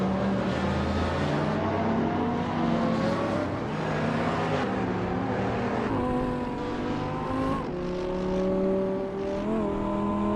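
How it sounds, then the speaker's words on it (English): A 2011 Alfa Romeo racing car engine in a video game drones and revs steadily and loudly, its pitch rising and dropping through gear changes. "The Betty White Show is driving a 2011 Alfa Romeo TZD 3 Sagato Duchesse"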